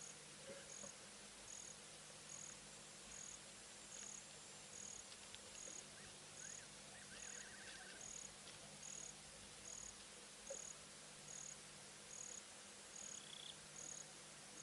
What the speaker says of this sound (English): You can just hear the crickets every now and then